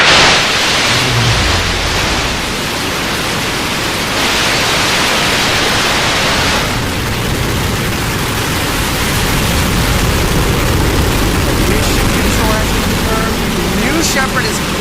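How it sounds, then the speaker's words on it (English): Blue Origin New Shepard rocket engines firing at liftoff for the NS-22 crewed suborbital launch, a loud, continuous broadband roar filling the whole stretch, with a voice faintly audible beneath. "command engine start"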